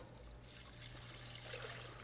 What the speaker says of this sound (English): All we have to do now is add our chicken stock.